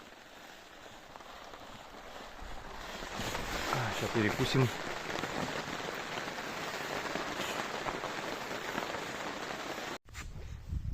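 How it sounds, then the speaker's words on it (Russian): Steady, dense rain hisses loudly throughout, a heavy downpour drumming on surfaces at a mountain camp in the Subpolar Urals, with someone speaking briefly partway through. "Пошел ливень."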